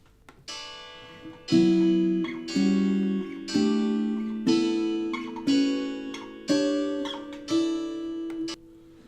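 Guitar strums a series of three-note quartal chords, each struck and left ringing before the next, stepping upward in a slow even rhythm.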